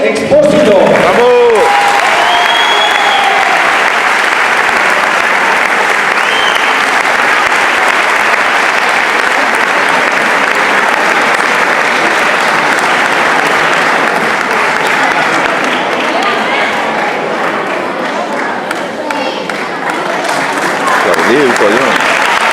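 A loud crowd applauds and cheers at a sports awards gala honouring weightlifting in Tavernes, the clapping dense and sustained for over twenty seconds, with shouts and voices mixed into the roar and a slight dip near the end.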